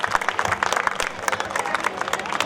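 An audience claps to welcome guests at an ex-servicemen program, a dense, steady burst of applause from a crowd filling the room.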